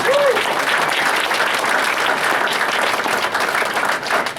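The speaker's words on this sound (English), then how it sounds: "can we give all of them a big round of applause?" Banquet audience applauding steadily and loudly throughout, a dense wash of many hands clapping together with a brief voice near the start.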